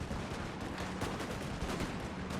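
Napoleon: Total War cannons fire round shot and canister in a dense rumble of overlapping booms and crackling volleys, loud and continuous from start to finish.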